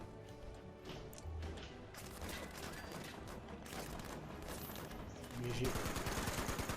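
Gunfire rattles almost continuously in Fallout 76 during a final battle at a warehouse, dense bursts with a heavier volley near the end, while players talk over it.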